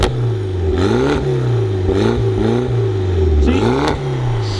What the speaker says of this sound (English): someone in a car show always revs the engine, and that, my friend, is you today